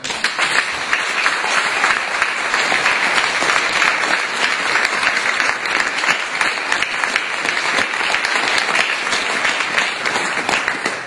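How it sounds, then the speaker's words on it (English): A school audience of students and older guests gives a long, steady round of applause, dense and loud throughout with no break, a broad crowd of hands clapping together. "could we salute the primary ambassadors of the school by giving them a round of applause"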